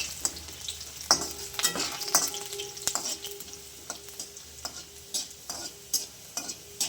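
Chopped ginger sizzles steadily in hot oil for dhaba-style dal tadka, with a spoon scraping and stirring it in repeated close knocks and scrapes. No one speaks.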